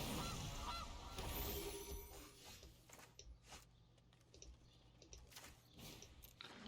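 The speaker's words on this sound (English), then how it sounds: "Goose." Goose honking in an MTG Arena card game, a series of short, distinct digital honks spaced unevenly across several seconds over a faint background.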